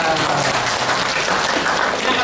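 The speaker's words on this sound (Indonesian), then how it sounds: "Tepuk tangan ya." A crowd claps steadily and densely throughout at a workshop in a hotel, a continuous wash of applause with no pauses.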